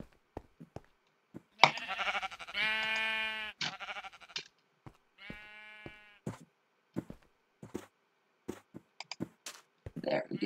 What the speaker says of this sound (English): we should probably spawn Memorial Sheep in here